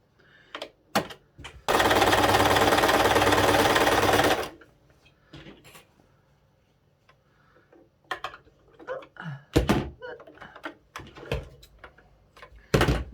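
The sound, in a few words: sewing machine top stitching a wire frame hat seam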